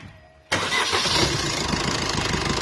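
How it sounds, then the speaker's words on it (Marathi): A car engine, just fitted with a new oil pump and oil chamber, cranks and catches at about half a second, then settles into a loud, steady idle that runs alone to the end. "ते बघा, गाडीची फायरिंग एकदम नॉर्मल झालेली आहे."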